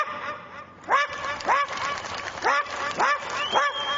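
A human voice imitates a poor household's dog barking, giving about six hoarse, honking barks in a steady rhythm, close and fairly loud.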